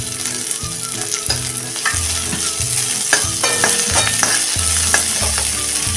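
Curry leaves, coriander and spices for a yellow potato curry sautéing in a pan, a steady loud sizzle broken by frequent rhythmic scrapes and knocks of a stirring spoon, close up and without talk.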